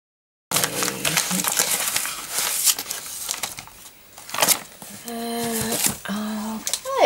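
A well-packed gift parcel being cut and unwrapped, with crinkling paper and scraping rustles close by, mixed with short bursts of someone talking.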